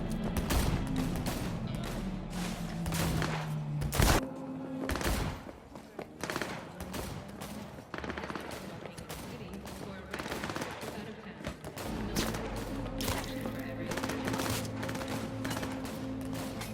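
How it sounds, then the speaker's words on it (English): Gunfire in the video game Cyberpunk 2077, with repeated bursts of shots and heavy impacts over a rumbling game score, loud and close, while a voice speaks intermittently. "I'm under fire!"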